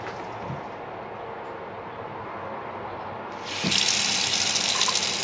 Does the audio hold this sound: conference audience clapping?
no